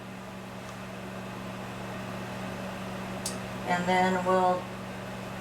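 A microwave oven hums steadily and evenly while cooking chicken fajitas. A brief voice and a short burst of tonal sound cut in near the middle.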